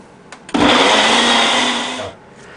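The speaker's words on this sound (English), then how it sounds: "So I'm going to blend them all and basically make a puree out of them." A kitchen blender purees vegetables for a lasagne, starting abruptly with a loud, steady whirring roar that runs for about one and a half seconds before spinning down and stopping.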